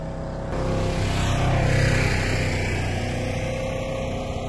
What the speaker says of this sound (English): We're trying to get away from the noise, the traffic noise, to finish this video